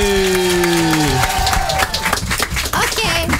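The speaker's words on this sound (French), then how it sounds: "on va applaudir" An audience claps and cheers in a French radio studio on the NRJ station, a dense burst of applause that follows a musical sting and keeps going loudly through the short moment.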